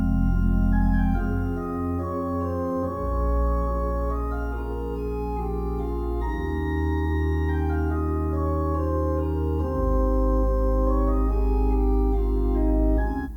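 Pipe organ in Muse set to flute solo stops on the manuals and flute stops on the pedals, sustained mellow chords and moving lines over a deep held bass, steady and full with no talking.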